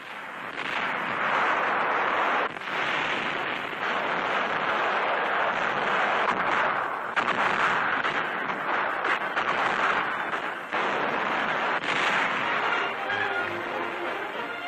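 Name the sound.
bombardment explosions on Pantelleria, WWII newsreel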